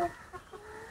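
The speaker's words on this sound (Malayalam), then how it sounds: "കുറച്ച് കോഴികളൊക്കെ ഉണ്ട്." Chickens of the Thalassery breed kept in a backyard coop cluck in a short burst, a couple of soft calls close by with no talk over them.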